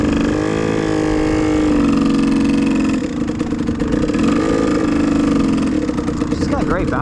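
A motorcycle engine idles and rises gently as a learner rider applies easy throttle, a steady mid-pitched hum that swells and settles, while an instructor talks nearby.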